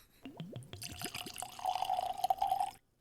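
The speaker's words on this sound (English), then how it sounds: "I'm going to pour it." Whisky glugs out of a small 50 ml Benriach bottle, a run of rapid rising gurgles at first, then a steady close trickle into the glass that stops abruptly.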